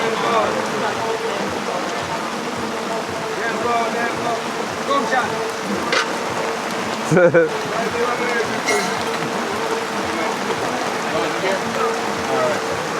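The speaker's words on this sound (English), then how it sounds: "Rain, just like that." Steady rain falling in Jamaica, a constant hiss of drops on surfaces filling the background, with a brief louder patter partway through.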